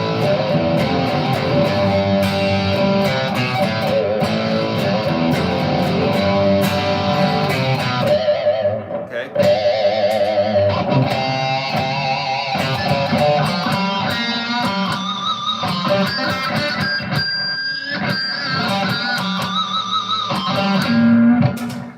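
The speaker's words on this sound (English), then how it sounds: "That's a pinch harmonic" A distorted electric guitar plays a loud riff through effects, with squealing pinch harmonics picked on the lower strings rising out of the dense driven tone, continuing without talk throughout.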